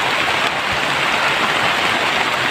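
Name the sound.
rain falling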